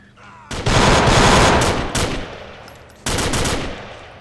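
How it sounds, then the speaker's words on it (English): Heavy automatic gunfire rattles loud and close in the video game GTA 4 with the LCPDFR police mod, with two long sustained bursts separated by a brief lull. "I'm getting blasted with guns here."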